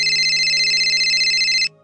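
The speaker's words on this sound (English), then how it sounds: "I get a phone call" A telephone rings steadily in one continuous electronic trill, loud and close, then cuts off abruptly, leaving a faint low hum.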